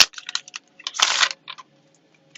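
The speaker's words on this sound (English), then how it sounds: "let me just shuffle again, because it flew out really quick" Playing cards are shuffled by hand at close range, a quick riffle of sharp papery clicks followed by one louder, longer burst of cards snapping together, then a few stray taps.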